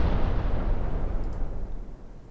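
Heavy warship main guns firing high-explosive shells in a 1955 naval battle video game, a loud continuous rumbling boom with rolling low thunder that slowly fades, no voices.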